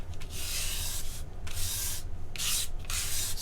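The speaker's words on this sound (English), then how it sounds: "All I'm doing is using a safety razor blade," A safety razor blade scrapes across veneer tape in several long rasping strokes, each a hissy abrasive swipe separated by short pauses, close and fairly steady.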